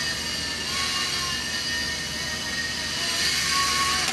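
A small E-flite Blade mSR micro RC helicopter flies indoors with a steady, continuous high-pitched whirring of its rotor and motor, fairly close and unbroken throughout.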